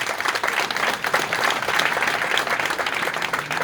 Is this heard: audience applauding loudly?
yes